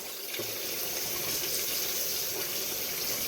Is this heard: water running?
yes